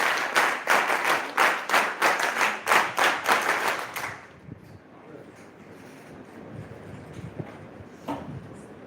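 Rhythmic group clapping at a defence gathering, about a dozen steady beats in unison, stops abruptly, leaving faint outdoor wind noise.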